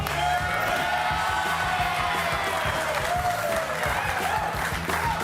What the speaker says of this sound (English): Keep the applause going for Nathan and Brian.